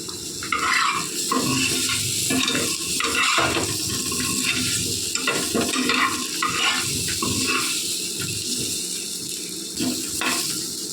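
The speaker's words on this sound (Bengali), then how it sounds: "আলু ভাজা হচ্ছে" Potatoes frying in oil in a kadai for an egg curry, a steady dense sizzle with scraping stirring strokes and watery bubbling throughout, close and fairly loud, no talking.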